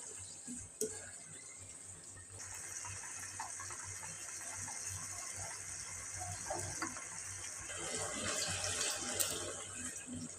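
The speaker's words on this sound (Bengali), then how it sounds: "এখন আমি সিদ্ধ হওয়ার জন্য পানি দিয়ে দিব।" Water runs steadily into a pot of meat and potatoes cooking on the stove, a soft continuous gush heard quietly and close.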